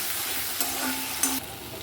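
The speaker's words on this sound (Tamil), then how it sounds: "தக்காளி போட்டு ஒரு 2 நிமிஷம் வதக்கிக்கலாங்க" Tomato sizzles in a pan while a spoon stirs it, with a steady frying hiss broken by a couple of short scraping strokes against the metal.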